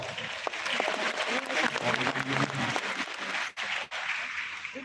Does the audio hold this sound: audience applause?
yes